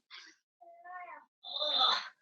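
A cat meows in three separate calls, the last one longest and loudest, heard close up and alone during a podcast recording.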